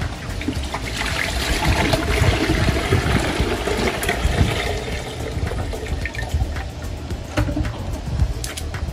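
Water pours steadily into a 5-gallon plastic bucket while mixing a saltwater aquarium setup, a loud close splashing and gurgling that runs unbroken for the whole stretch.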